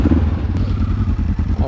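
A KTM 500 EXC enduro motorcycle rides over wet rock, its engine a close, rough low thrum with clattering underneath, while a person talks over it.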